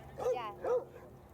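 A dog gives two short barks outdoors during a confrontation with protesters, each bark brief and fairly close, with a pause between and a low background hum.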